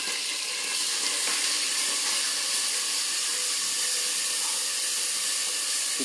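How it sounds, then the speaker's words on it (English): Two medium, freshly grated onions hit oil heated to smoking point, giving a loud, steady sizzling hiss that holds unbroken from start to finish. "Now the oil has come to a smoking point, so we'll put in again 2 freshly grated onions, 2 medium size."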